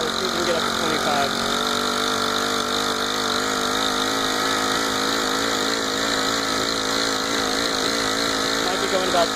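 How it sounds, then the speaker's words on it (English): A GX25 four-stroke engine on a motorized bicycle runs steadily near maximum RPM while riding at about 20 mph, a loud continuous buzzing drone with faint wind rush throughout. "The motor is pretty much max RPM."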